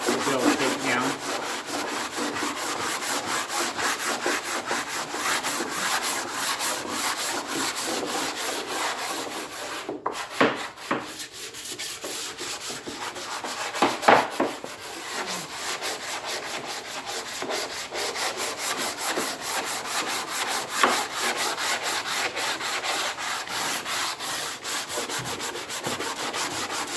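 Hand sanding of a wooden dresser being refinished, a continuous dense rasping scrub in quick back-and-forth strokes, close and fairly loud, with a few brief knocks partway through and no talking.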